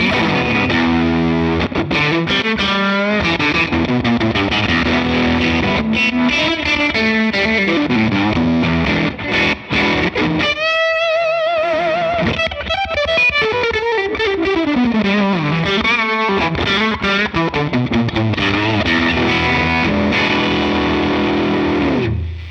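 An electric guitar plays through a Line 6 Helix Retro Boost into an amp, producing a loud, distorted, gritty vintage tone with continuous riffs, sustained chords and bending notes, with no talk.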